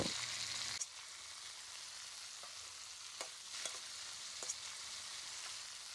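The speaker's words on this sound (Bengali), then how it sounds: "বরবটি, পাতাকপি, গাজর, আলু, শক্ত সবজিগুলো দিয়ে 2-3 মিনিটের মতো নেড়ে চেড়ে ভেজে নেব।" Yardlong beans, cabbage, carrot and potato stir-fry over medium-high heat, giving a quiet even sizzle with occasional faint scrapes of a spatula. A louder burst sounds at the very start.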